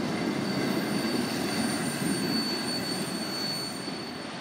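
Norfolk Southern freight train rolling past at steady speed, with a loud, continuous rumble of wheels on rail and faint high squeals, gradually easing toward the end.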